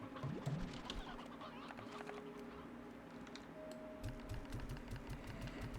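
Chickens cluck softly in the video game Slime Rancher, short repeated bird calls over a low mechanical hum and background game ambience, faint overall with a burst of rapid clucks near the end.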